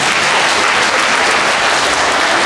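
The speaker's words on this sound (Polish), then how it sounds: "Wielkie brawo." Steady applause from an audience at a children's song contest for preschoolers, a dense even clapping that fills the whole moment with no talk over it.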